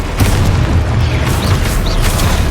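Repeated booming blasts of the Confringo fire spell in the video game Hogwarts Legacy, loud and dense with layered crackles and rumbles throughout, no speech.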